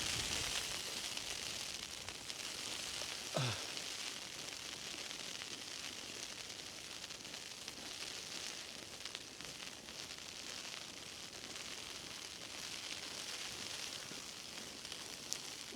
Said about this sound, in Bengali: বৃষ্টির মতো যে শব্দ শুনতে পাচ্ছেন সেটি বৃষ্টি নয়, স্নো।